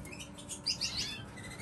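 Caged birds give a few brief, faint high chirps at a breeding setup with drinkers, heard close against a quiet room hum with no talking.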